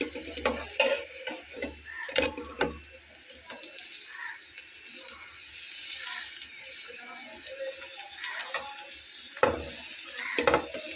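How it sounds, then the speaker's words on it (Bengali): Lentil and spinach batter fritters frying in a pan give a continuous close sizzle, broken by scraping and pressing sounds from a spatula and occasional clinks of utensils. "বাকিগুলো আমি ঠিক একইভাবে ভেজে নেব"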